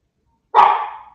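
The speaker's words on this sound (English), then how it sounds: "No, you don't bark at mommy." A single sharp, loud dog bark rings out close by after a moment of silence, its tail fading quickly.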